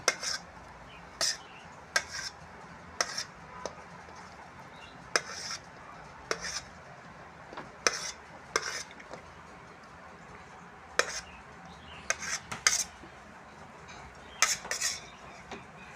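A knife cuts an egg bun for an egg bun curry, with repeated sharp clicks and taps of the blade on a board or plate coming at an irregular pace, fairly close and alone.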